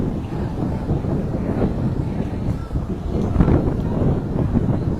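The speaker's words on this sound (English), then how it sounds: "A little bit windy here on the Spaceship Earth." Gusty wind buffeting a microphone outdoors at Spaceship Earth, EPCOT, a steady low roar with a stronger surge near the end, no voices.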